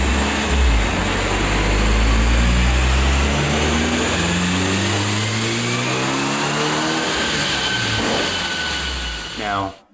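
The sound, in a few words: Evo car engine revving on a roller dyno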